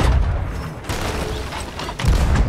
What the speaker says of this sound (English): the cannons!